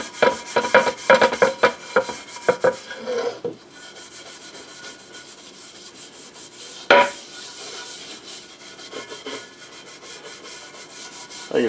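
Repeated rasping strokes of a Scotch-Brite pad scrubbing cast aluminum, brisk and close at first, then a quieter, steadier rub with one sharp knock midway.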